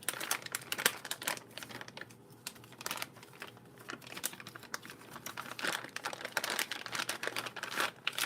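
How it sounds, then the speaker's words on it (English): Packaging around a GS .18 model engine being unwrapped, with crisp irregular crinkling and tearing of paper and plastic, close and busy throughout. "I think I just, unwrap it, right?"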